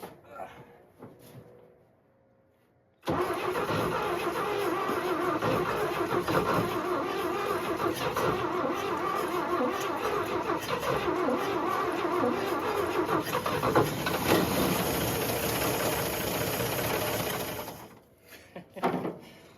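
A 1957 Chevy 210 engine with an uncleaned carburetor cranks and fires after a quiet moment, then runs loud and steady at close range for about fifteen seconds before cutting off abruptly.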